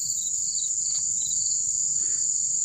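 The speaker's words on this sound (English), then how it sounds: "All I hear is just loud ringing sounds in my ear from the crickets and birds." Dense, steady cricket chirping fills a night forest in Pocono State Forest, a loud high ringing drone that runs unbroken the whole time, with faint scattered bird calls.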